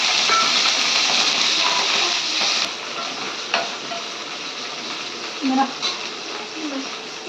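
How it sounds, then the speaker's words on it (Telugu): Green chillies fry in a hot pan for a bachala pickle, a loud, bright sizzle that fades somewhat after a few seconds, with occasional stirring knocks and a voice talking briefly underneath. "పాన్ వేడెక్కినాక పచ్చిమిర్చి వేసుకోవాలి"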